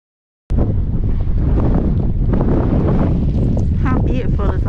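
Strong, steady wind on the Skye Trail buffets the microphone with a continuous loud roar after an abrupt start, and a voice speaks briefly beneath it.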